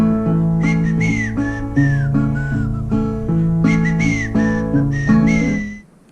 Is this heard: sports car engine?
no